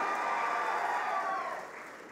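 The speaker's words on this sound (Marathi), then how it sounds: "जोरदार टाळ्या वाजवून त्यांचं स्वागत करा" Audience at a public welcoming ceremony in Maharashtra claps steadily, a dense, sustained roll of many hands that holds strong and then tapers off slightly near the end.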